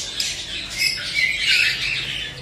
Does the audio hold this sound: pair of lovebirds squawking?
yes